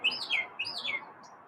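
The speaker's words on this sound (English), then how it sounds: "Man, I don't know if you can hear Chirpy" Small pet bird indoors giving a few quick, faint high chirps, three short sweeping calls in a row, under a low room murmur. No one speaks.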